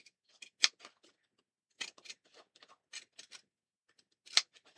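Small scissors snip fabric around stitches on an embroidered cushion, a few sparse, sharp, close snips separated by quiet pauses.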